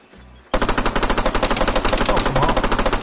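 Rapid automatic gunfire in a video game, a loud close stream of evenly spaced shots following a brief quiet moment, with no talk over it.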